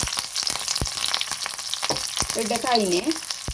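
A tempering of spices and garlic crackles and sizzles in hot coconut oil in a pan, loud and close, with sharp pops scattered through the steady frying hiss.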